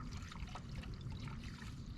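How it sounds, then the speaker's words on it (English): Water pouring and trickling into a container to cover fresh-caught rainbow trout for a saltwater soak at a truck campsite, a steady close splashing stream with no talk. "Let's put enough water in there to cover them."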